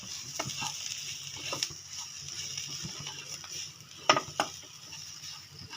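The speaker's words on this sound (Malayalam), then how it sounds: "ഇനി നല്ലോണം മിക്സ് ചെയ്ത് കൊടുക്കാം." Chicken masala and pepper powder stirred in a pan with a spoon, soft scraping and a faint sizzle, with a few light clinks of metal against the pan amid quiet background noise.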